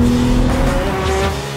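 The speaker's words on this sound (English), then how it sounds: "Driving a 911" A Porsche 911 driving, its engine a steady, loud drone with a sustained tonal hum and a faint rising note partway through, heard close and alone without talk.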